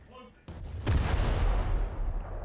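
Naval turret guns on the USS Newport News in War Thunder firing in two heavy booms, a sharp report followed by a deeper blast that rumbles and decays for over a second, with faint voice before.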